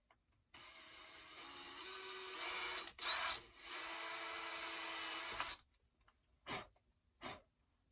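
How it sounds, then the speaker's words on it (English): A power drill whirs steadily for several seconds, pitch rising slightly as it bores through, then stops, followed by a couple of short bursts. "So let's just drill this last hole for you guys."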